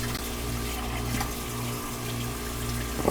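Water leaks from a hot-water pipe on an oil heating system, a continuous close splashing trickle over a low steady hum.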